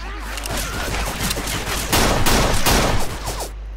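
Dense, rapid gunfire in Left 4 Dead 2, including an M60, rattles in continuous overlapping bursts that grow heavier toward the middle, loud and close.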